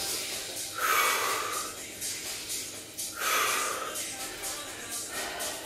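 Heavy breathing during a dumbbell lunge workout, two strong breathy exhales with a gasping, snort-like quality, separated by quieter breaths against a steady background.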